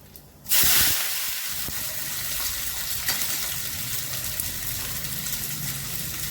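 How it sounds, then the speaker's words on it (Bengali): Black cumin and sliced onion dropped into hot oil with dried chilli, a sudden loud sizzle that settles into a steady close crackling hiss. "এরপর কালো জিরে দিচ্ছি, পেঁয়াজ দিয়ে দিচ্ছি,"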